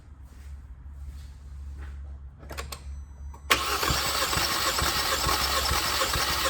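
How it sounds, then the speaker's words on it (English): A 2019 Kia Rio engine with a misfire cranks briefly, then catches and roars into a loud, steady run that continues to the end. "I'm gonna go and turn the engine over."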